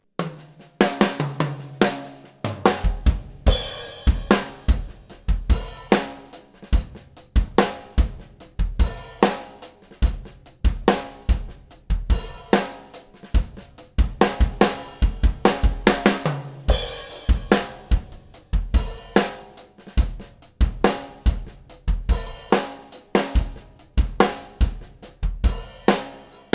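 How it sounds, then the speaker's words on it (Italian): A drum kit recorded at home through just a kick microphone and one overhead plays a steady groove, with punchy kick hits, snare cracks and washing cymbals driving continuously for the whole stretch, loud and up close, with no talking. "sentiamo come suona la nostra batteria con due microfoni, cassa e panoramico."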